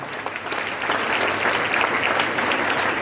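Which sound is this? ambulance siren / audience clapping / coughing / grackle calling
audience clapping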